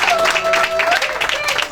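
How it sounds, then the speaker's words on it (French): An audience at an African excellence awards ceremony applauds in honour of an honoree, short, dense clapping mixed with a speaking voice over a PA. "Applaudissons pour Mapengue"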